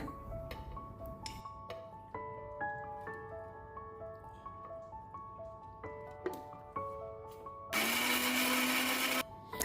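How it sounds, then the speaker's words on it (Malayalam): A mixer grinder grinds coconut and onion without water, a short loud whirring burst of a second or two near the end after a stretch of soft sustained tones. "ഇതും അരച്ചെടുക്കുക വെള്ളം ചേർക്കാതെ തന്നെ അരച്ചെടുക്കുന്നത്"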